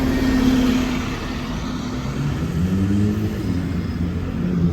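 A London bus in Kingston drives past with a steady, loud engine rumble and a low droning pitch that shifts as it moves by, with no talking.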